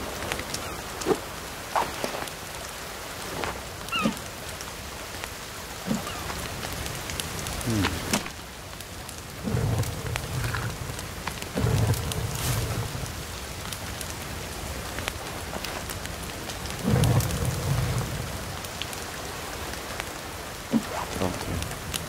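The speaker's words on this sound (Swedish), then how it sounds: "Kanske vänta tills det slutar regna." Steady rain falling with rolling rumbles of thunder in a video game thunderstorm, a continuous wash of patter with several low booms, while players talk quietly over it.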